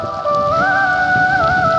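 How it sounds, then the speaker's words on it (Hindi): Heavy rain falls outdoors as a steady, dense hiss of drops on surfaces, close and continuous, with a high whistling or ringing tone running over it and no talking. "देखो आज बारिश बहुत तेज है"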